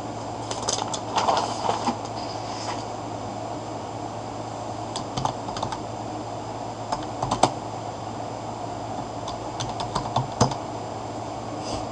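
Keys on a computer keyboard are tapped in short irregular bursts, faint and close, over a steady low hum with no talking.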